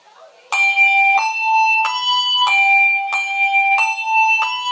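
A hand bell rings in a steady sequence of about six clear, bright strikes, each tone ringing on until the next, loud and close with no talking.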